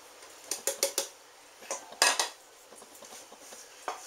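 A spoon clinks and scrapes against a bowl while breadcrumbs, parmesan, Italian seasoning and herbs are stirred together, in quick bursts of sharp taps with short pauses.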